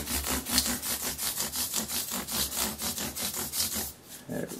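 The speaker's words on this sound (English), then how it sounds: "you can get a couple of fret levels out of a piece of sandpaper like this" Sandpaper rubbed back and forth over guitar frets to level them, a steady rhythmic scraping of about twenty strokes, close and loud, briefly pausing near the end before resuming.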